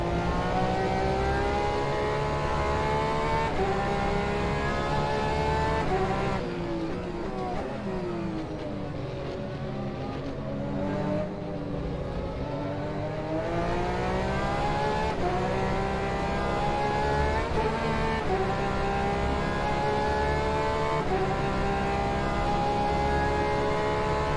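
A Porsche 911 RSR GTE racing around Le Mans in rFactor 2, its engine note climbing through the gears and dipping under braking, loud and continuous, with other cars' engines sweeping past.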